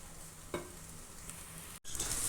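Okra frying in a pan with chili and salt gives a steady close sizzle, with a brief clatter of stirring early on and a short break near the end.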